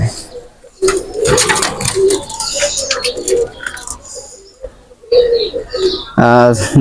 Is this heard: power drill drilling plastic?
no